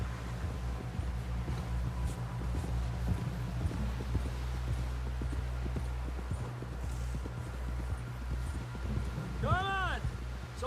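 Horse hooves clip-clopping at a steady walking rhythm in the Red Dead Redemption 2 video game, a low rumble and wind beneath, with a brief whinny near the end.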